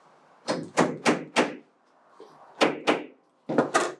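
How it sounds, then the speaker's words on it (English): Hammer knocking wooden dowels tight into a DIY wooden bug hotel, a close series of sharp thuds in two quick groups of four with a pause between, then a final pair. "take your hammer and knock them in so they're nice and tight."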